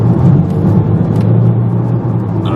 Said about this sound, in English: The sound, it's nice for a diesel engine